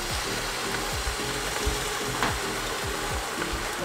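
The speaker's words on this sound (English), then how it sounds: "I got the fan on because I gotta turn the fan on again." An electric kitchen fan runs steadily over a cooking pot of chicken, a constant broad whir with a faint rhythmic mechanical ticking beneath it, close and unbroken.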